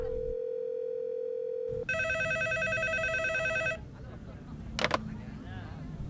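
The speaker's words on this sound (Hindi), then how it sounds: "पब्लिक टेलीफोन बूथ पर इनकमिंग कॉल कैसे आ सकती है?" A public telephone booth phone rings with a bright electronic trill after a steady tone, then stops; a short click and faint background noise follow.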